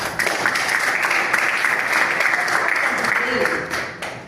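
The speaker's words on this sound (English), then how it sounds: "Let's give him a round of applause again." Sustained applause from the audience at a Toastmasters meeting, a steady wash of many hands clapping that holds for several seconds, then thins and fades toward the end.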